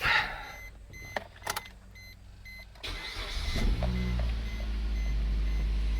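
A Suzuki SX4, just repaired with a new head gasket and timing chain, cranks after a few clicks and fiddling sounds, then catches and settles into a steady, loud idle close by.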